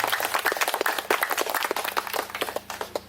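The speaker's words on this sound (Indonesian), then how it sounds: "Tepuk tangan dulu buat kita semua." Scattered clapping from a small audience at an art exhibition opening, a few seconds of uneven, fairly soft handclaps with faint background murmur.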